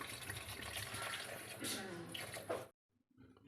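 Water poured into a pan of pointed gourd, a quiet splashing rush for a few seconds that stops abruptly, followed by faint background sounds.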